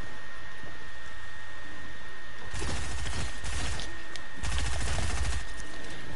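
Dense bursts of submachine gun fire in the video game Fortnite during a solo tournament match, loud rattling volleys arriving in two clusters over a steady hissy background, with no talking.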